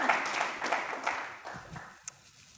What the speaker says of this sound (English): give her a round of applause and a hug